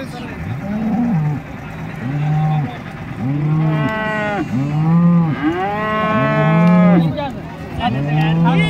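Several female calves moo repeatedly, loud and close, their calls overlapping in a steady series against a busy crowded cattle market in Modnimb with people talking.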